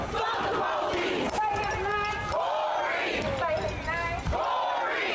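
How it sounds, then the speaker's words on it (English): Large protest crowd chanting a slogan in unison, loud and close, with rhythmic shouted bursts repeating about every second and a half over a constant crowd roar. "You guys can get an idea of the crowd size"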